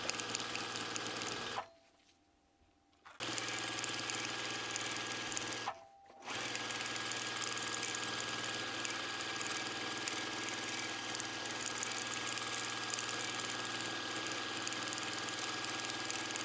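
A sewing machine stitches thread into a sketch of stacked houses, running in a steady close mechanical whir, broken by two short pauses, one long and one brief.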